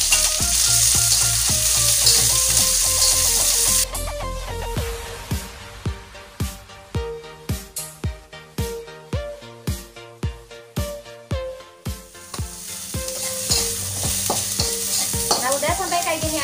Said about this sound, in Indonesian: kita goreng dulu bumbu pecaknya ya